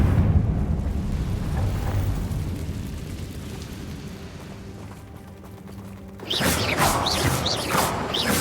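Confringo blasting spell cast in Hogwarts Legacy, a sudden bright burst near the end after a long rumbling, low ambient stretch, loud and crackling as the blast hits.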